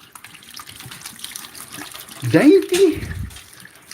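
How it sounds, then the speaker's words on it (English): Running tap water splashing as a hand is rinsed under it, a loud close gush lasting about a second, with a voice speaking before it. "Let me just rinse my hand."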